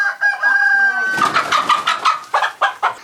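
Hens clucking inside a henhouse, a busy run of close, loud clucks and squawks in an uneven rhythm, with one sustained crowing call near the start.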